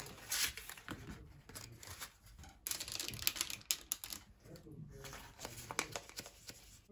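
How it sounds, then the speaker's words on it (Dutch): Peanut chocolate treats set down one by one into paper cases, giving soft crinkling paper rustles and light taps in quick, uneven bursts, close and quiet. "Ik heb hier papieren vormpjes en hier ga ik ze opleggen."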